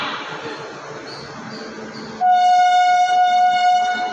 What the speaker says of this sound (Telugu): ట్రైన్ కూడా షూట్ చేసుకుంటే బాగుంటుంది